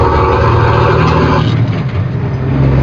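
A loud semi truck's engine and exhaust drone heard from inside the cab while driving loaded, a heavy steady roar that eases slightly partway through.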